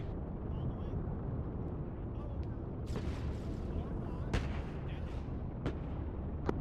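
Tank gunfire in an Arma 3 World War II battle, with Sherman and Panzer III tanks: several sharp, loud cannon blasts crack out over a constant low engine rumble. Players talk over the radio throughout.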